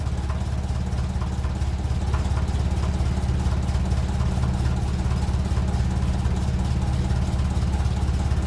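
A 1957 Ferguson 35 TVO tractor engine idling while running too rich, a steady low throbbing rumble that holds close and continuous without a break.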